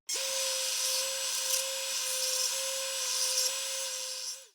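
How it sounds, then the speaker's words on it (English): A belt sander smoothing cut wooden pieces gives a steady, close whirring hum with a bright abrasive rasp over it, running for a few seconds and winding down at the end. "we'll get those cuts cleaned up over here at our belt sander"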